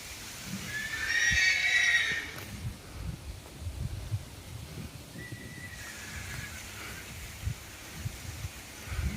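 A 22-year-old horse gives a loud, drawn-out whinny near the start, followed by a fainter second call later, with soft hoof steps and shuffling throughout.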